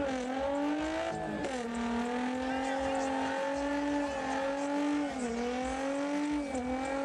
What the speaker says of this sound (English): I would say that's a pretty killer burnout.